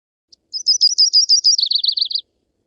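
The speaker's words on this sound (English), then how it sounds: "let's hear these guys. Kind of I find their call a little bit hard to pick out" A myrtle (Audubon's) warbler sings a single short, high-pitched trilling phrase of rapid chips that shifts to a lower run at the end, clear and close against silence.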